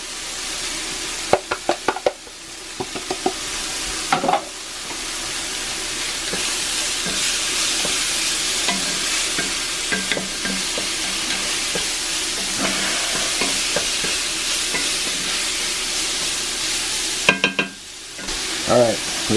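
Spam and ginger fry in a cast iron pan with a steady, close sizzle, broken by repeated scraping and clattering of a utensil stirring against the iron.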